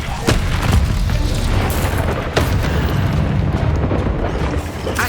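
Spell blasts from Hogwarts Legacy, the Incendio fire spell cast in combat: a dense, continuous roar of booming bursts with sharp impacts near the start and middle, loud and close throughout.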